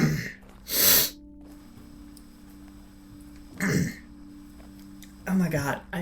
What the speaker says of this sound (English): I'm not actually blowing my nose, I'm just rubbing the snot away